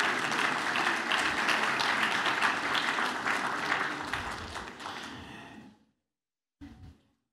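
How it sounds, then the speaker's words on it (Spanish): A church congregation applauds with dense, loud clapping and voices mixed in, then fades out and stops, followed by a short burst of sound. "Un aplauso para ustedes"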